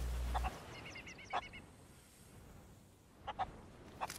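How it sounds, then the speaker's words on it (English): Chickens clucking in Sea of Thieves, a few short separate clucks coming at intervals, faint and a little distant, over a quiet ambient background. "Are those chickens?"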